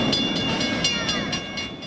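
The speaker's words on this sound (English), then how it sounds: "I think, 80 or 90 train cars on this one. That's a long train." A long freight train of some 80 or 90 cars rolls past close by, a steady loud rumble and roar with rhythmic wheel clatter and high metallic squeals, no voices.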